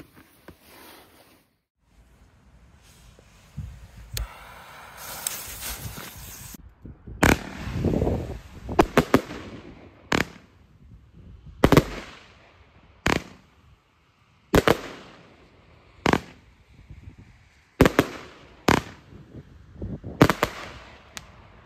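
A Riakeo Dragon consumer fireworks battery of 20 shots fired from 30 mm tubes, loaded with 499 grams, bursts in a series of sharp, loud cracks and bangs spaced about every second or two, with crackling tails in between.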